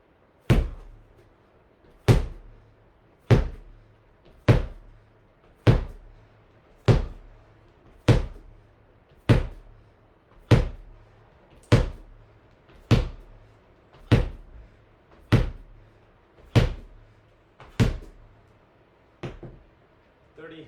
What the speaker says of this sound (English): Ball slams.